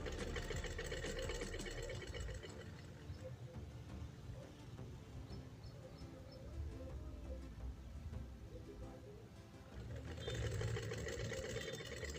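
An electric sewing machine stitches darts on a kurta, running as a steady, fast mechanical whir and rattle that eases to a lower hum midway and then speeds up again near the end.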